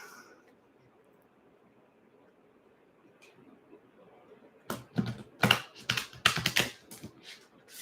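Tarot cards are shuffled by hand: after a quiet stretch, a quick burst of crisp riffling and slapping clicks comes up close and loud in the latter half.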